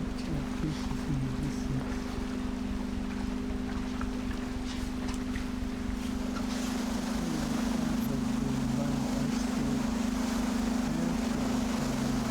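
Expedition ship cruising at about 12 knots through icy Antarctic waters, with a steady loud engine drone and a constant wash of water rushing past the hull throughout.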